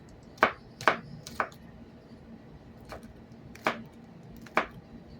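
A knife chops onions on a cutting board in a home kitchen, six or seven sharp, separate knocks at an uneven pace, close and fairly quiet, with no talking.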